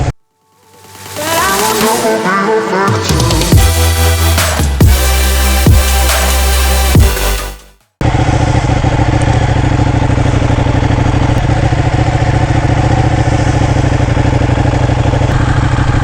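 A Ducati Panigale 1199 sport motorcycle rides along steadily, its engine drone continuous and loud after a short musical lead-in, with road and wind noise mixed in.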